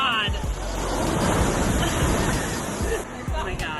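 Rough floodwater waves surge and crash in a loud, continuous roar, with a crowd's babble and shouts over the rushing water.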